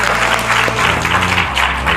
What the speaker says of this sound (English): So maybe by a round of applause.